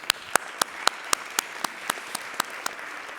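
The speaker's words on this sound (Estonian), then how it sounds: "teeme Svenile ka ühe väikse aplausi seal" A small audience claps in a steady, evenly spaced rhythm at a business talk on growing a company through social media, about eleven sharp claps over a soft background wash, moderately close, with no voices.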